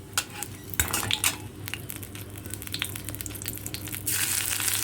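Ginger, black cumin and a bay leaf sizzle in hot oil in a pan over a low gas flame while a metal spoon stirs and scrapes, with clinks early on and a steady close-up frying hiss.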